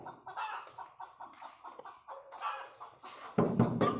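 Chickens cluck steadily close by in short repeated bursts, with a louder, denser flurry of clucking near the end and no voices.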